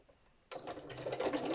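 After a short quiet pause, a sewing machine starts up and runs steadily, stitching decorative seams through paper ephemera for a sunflower journal, a close, dense mechanical whir that holds to the end.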